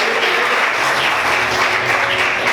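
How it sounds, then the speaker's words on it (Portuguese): A large church congregation applauding steadily and loudly, a dense continuous wash of clapping that fills the whole stretch. "Aplaude o Senhor, queridos, bem forte."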